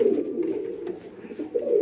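Pigeons on a pigeon farm coo in a steady, low, throaty murmur that rises and falls over about two seconds, close by, with no talking.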